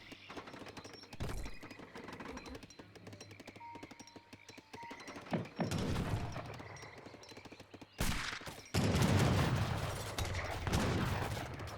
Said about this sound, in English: Falconets firing away against each other.